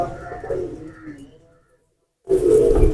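A Ferozpuri cross pigeon coos in low, rolling calls, close by, followed by a pause and then a louder, fuller cooing burst.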